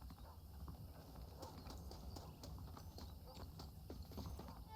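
Saddled horses clip-clop steadily in the Red Dead Redemption video game, their hooves beating in a continuous rhythm against a low rumbling background.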